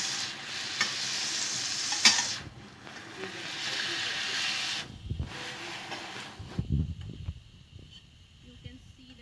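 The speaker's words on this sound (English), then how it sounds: "After say 4 to 5 minutes of frying the fish on low flame, we are just turning the pieces around upside down." Salmon pieces fry in butter over a low flame, a steady close sizzle and hiss with a few stirring and turning clatters as the pieces are flipped.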